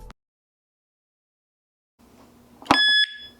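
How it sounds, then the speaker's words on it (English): A Nulock smart bike lock gives a short electronic warning beep after a stretch of near silence, preceded by faint handling noise and a sharp knock as the lock is shaken. "it will sound a warning beep."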